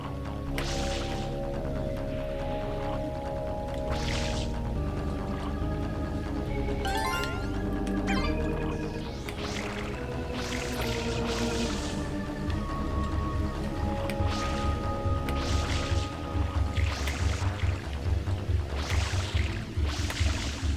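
Steady Super Mario Sunshine soundtrack with looping music and a constant low watery rumble of a boat gliding across water at Corona Mountain, occasional splashy swells throughout.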